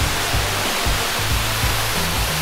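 Roaring waterfall in Hokkaido throwing heavy spray, a loud, steady, broadband rush of water heard close up with no voices.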